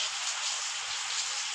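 Steady rain falls outside a home during a household worship ceremony, a continuous even hiss with no voices over it.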